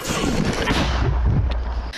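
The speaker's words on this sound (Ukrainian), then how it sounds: "Постріл!" A single heavy military mortar blast booms out close by on a front-line position, a deep concussive thump followed by a rolling rumble that fades.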